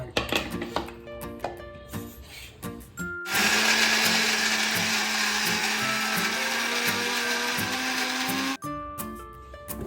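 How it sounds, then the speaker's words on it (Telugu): A kitchen mixer grinder whirs loudly and steadily for about five seconds as it blends chopped beetroot and ginger in the jar, with clinks and handling sounds before and after. "ఇప్పుడు మనం అది మిక్సీ పట్టుకున్నాం ఇలాగా."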